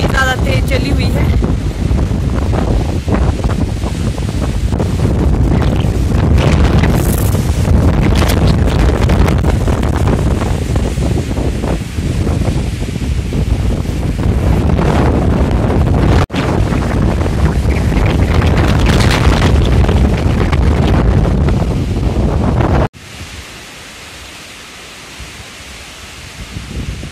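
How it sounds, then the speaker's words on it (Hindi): Strong wind blows outdoors in a Himachal Pradesh village, buffeting the microphone with loud, continuous rumbling gusts for most of the stretch before dropping to quieter ambience near the end. "अभी चली हुई है जी हवा, तो देखिए जी कितनी ज्यादा तेज चली हुई है।"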